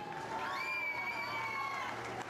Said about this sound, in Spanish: El aplauso para Mario.